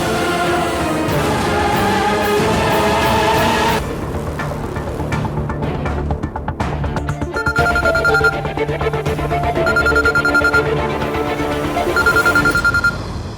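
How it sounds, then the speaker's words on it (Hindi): A mobile phone rings repeatedly in a domestic scene from a Hindi TV drama, its bright electronic ringtone looping over and over, loud and close over a dense, busy backdrop. "सुनो, इश्की का फोन बार बार बज रहा है"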